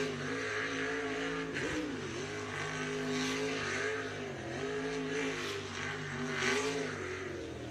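A 700-horsepower V8 superboat engine revs hard and continuously at close range, its pitch rising and dipping in repeated surges while spinning donuts in a grass-filled pool.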